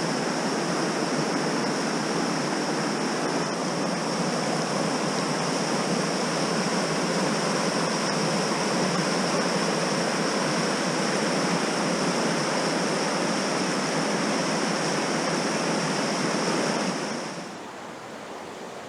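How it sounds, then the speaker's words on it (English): River running high through autumn woodland on Dartmoor, a steady, full rush of water close by that holds constant for about seventeen seconds, then drops away abruptly. "and with the water running in front,"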